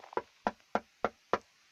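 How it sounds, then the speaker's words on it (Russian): Knocking on a door at night, five sharp, evenly spaced knocks, fairly close and quiet, with no talk. "Кто стучит в дверь?"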